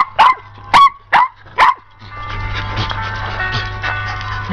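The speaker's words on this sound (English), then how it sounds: "Whoa, mighty dog." Large dog barking four times in quick, evenly spaced loud barks, followed by quieter background noise.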